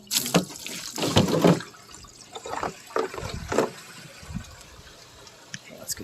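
Water pours into a container outdoors on a small farm, making irregular splashing and gurgling bursts at moderate volume with quieter pauses between them.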